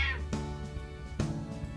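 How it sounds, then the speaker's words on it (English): A cat meows twice close by, two short separate calls about a second apart in a quiet indoor room. "Ah, she meowed at me."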